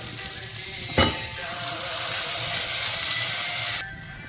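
Pointed gourd cooking in poppy seed paste, sizzling steadily in a pan with a sharp stir or scrape near the start, then a continuous close frying hiss that drops off near the end.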